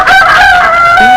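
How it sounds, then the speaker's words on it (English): A rooster crows loudly and close by in one sustained, wavering call, filmed in 1973. "What a magnificent bird you are."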